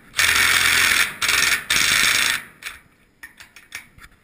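A ratchet tightens a fastener on a metal building, with three loud sustained ratcheting bursts followed by several sharper clicks and metallic taps, close and prominent.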